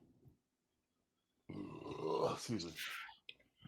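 A burp, or a voice imitating one, among friends joking about a NASCAR race at Daytona, Florida: a short quiet sound, then after a pause a loud, drawn-out guttural belch lasting about two seconds, ending in a few small clicks.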